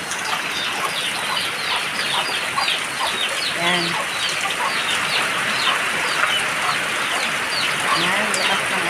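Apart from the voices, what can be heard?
chickens clucking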